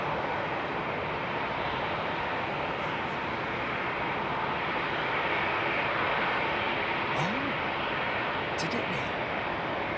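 An Airbus A380 jet taking off at night from Heathrow Airport, a loud, steady broadband engine roar that holds for the whole stretch without pause.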